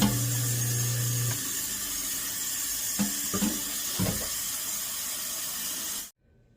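Hot water runs steadily from a tap into a candy pot used for candy apples, a continuous close rush of water that stops abruptly near the end.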